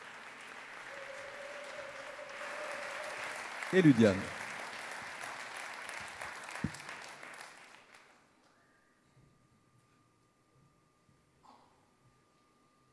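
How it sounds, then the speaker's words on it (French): Audience applause for a pianist and singer at the 35th Rencontres d'Astaffort song festival, loud steady clapping for several seconds with a brief shout, then fading into near silence as a voice briefly announces a name. "qu'on applaudit très fort"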